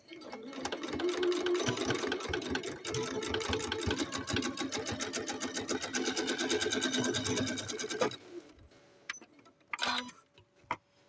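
Sewing machine stitching a seam in lace fabric for a doll skirt, a fast steady mechanical whir running for about eight seconds before stopping, followed by a few light clicks.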